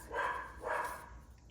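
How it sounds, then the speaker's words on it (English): A dog barks twice indoors, each bark short and moderately loud, with a room hum underneath and no other activity. "Sorry, my dog is barking in the background."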